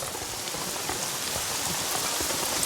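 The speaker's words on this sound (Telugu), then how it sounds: "వర్షం పడుతుందమ్మా" Steady rain pours down on surrounding surfaces, a dense, even hiss that stays close and constant with no voices.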